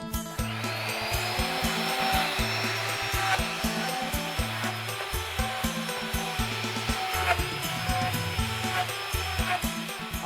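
A power tool drills and saws holes into the wooden body of a Thai phin lute, a steady whining tool drone with a rhythmic grinding pulse from close by, no talking.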